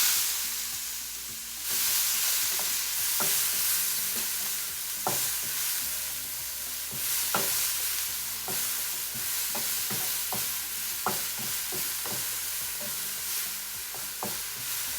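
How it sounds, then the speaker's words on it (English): Mushrooms frying in a pan over a medium flame, a steady close sizzle with repeated scrapes and stirring clicks throughout, no voices. "And you need to cook a mushroom 2 to 3 minutes."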